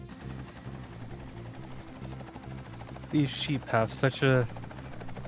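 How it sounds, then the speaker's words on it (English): A rhythmic, low thudding helicopter rotor in the video game Ty the Tasmanian Tiger 2 pulses steadily throughout at moderate volume, with someone talking over the latter part. "I've got the helicopter all fueled up and ready to go."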